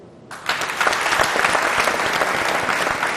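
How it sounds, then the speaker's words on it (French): After a brief quiet moment, a studio audience at a youth speaking competition bursts into loud, dense applause that continues steadily, with a few cheers mixed into the clapping. "Et ça s'applaudit."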